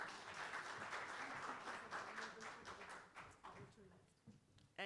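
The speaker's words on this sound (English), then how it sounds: "So a big round of applause, please." Audience applause at a commemoration event for the International Day for the Elimination of Racial Discrimination, steady dense clapping filling the room for several seconds before gradually thinning out, with no talk over it.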